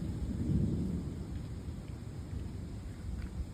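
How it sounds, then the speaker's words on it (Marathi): A low, rolling rumble of distant thunder swells briefly and then fades into a soft, steady background. "ढगांचा आवाज येतो"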